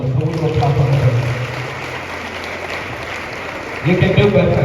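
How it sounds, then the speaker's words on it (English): Clapping from an audience at an arts and enterprise summit in Kumasi, a broad crowd wash with voices speaking over the start and end while the clapping carries through the middle. "Oh, can we do a clap on this one?"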